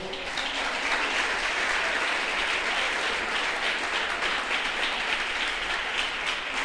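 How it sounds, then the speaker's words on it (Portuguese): A crowd claps steadily and continuously, a dense, even wash of applause that holds at the same level throughout. "Você pode aplaudir o Senhor."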